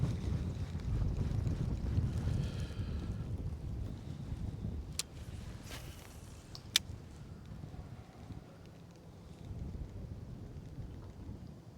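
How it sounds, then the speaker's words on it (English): Spring wind blows steadily outdoors on a chilly day, a broad low rumble of gusts buffeting the microphone throughout, with a few brief sharp clicks partway through and no talking. "I was kind of hoping the wind wouldn't blow today."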